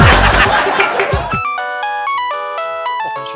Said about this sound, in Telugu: మా కాబోయే ఆవిడ ఫోన్ చేసింది.